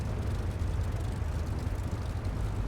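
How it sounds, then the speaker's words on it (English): Van's RV-8 piston aircraft engine in a flight simulator, a steady loud droning rumble with no pauses, heard alone while the plane taxis at an airfield in Cardiff, Wales. "I'm really digging that engine sound. It sounds amazing."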